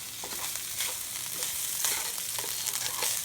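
Cooked rice is stirred into eggs and vegetables frying in a pan for vegetable fried rice, a steady crackling sizzle with soft repeated scraping strokes from the stirring utensil.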